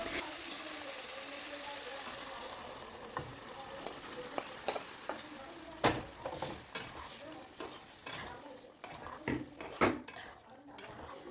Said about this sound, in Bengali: এবার খুব ভালো করে তেলের সাথে কষে নিতে হবে